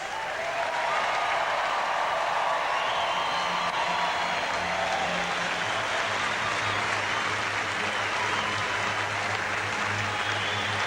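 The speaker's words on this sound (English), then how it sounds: "Ladies and gentlemen, please put your hands together for the Olympic medalists." Spectators at the 2000 Olympic beach volleyball gold medal ceremony applaud the medalists, a broad, continuous wash of clapping from a large outdoor crowd, steady and sustained throughout.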